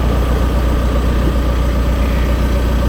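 Continuous rumble of a parked truck left idling in the woods, loud and unchanging low engine hum with nothing else standing out.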